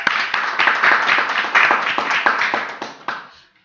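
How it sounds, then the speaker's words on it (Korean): Workshop participants give a round of group applause in a meeting room, a dense, steady stretch of clapping that thins out and fades at the end. "우리 서로 박수로 환영하면서 시작하겠습니다."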